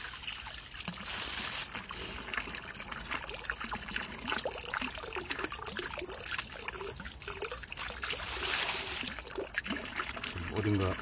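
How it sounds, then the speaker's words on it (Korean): Small stream in a neighborhood hillside forest trickling and splashing steadily nearby, a continuous babbling flow under someone talking intermittently. "물소리 좋죠?"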